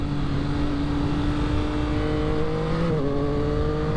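A 2022 Yamaha XSR900 motorcycle accelerating hard through first and second gear, a loud close engine roar climbing in pitch, dropping briefly at the shift, then climbing again with no talk.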